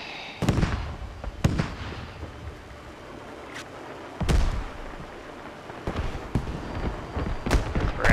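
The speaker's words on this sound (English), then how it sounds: "Mortars on their head are looking good. Just keep firing." Mortar and Grad rocket artillery explosions in a video game boom at irregular intervals, heavy thuds with sharp onsets over a continuous low rumble, some close and some farther off, with no voices.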